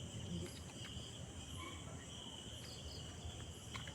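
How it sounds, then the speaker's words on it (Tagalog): Crickets chirp outdoors during a spider hunt, a steady, unbroken high-pitched trill that runs through the whole stretch at moderate loudness over a low, rumbling background noise, with no one talking. "Kuliglig."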